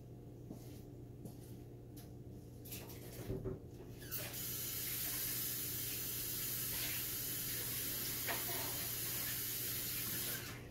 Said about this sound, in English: But I am gonna fill the water.